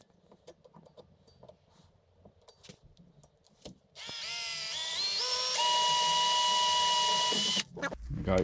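Power drill bores small pilot holes in an RC crawler bumper, first with scattered handling clicks and taps, then a loud steady whine that climbs in pitch, before stopping abruptly.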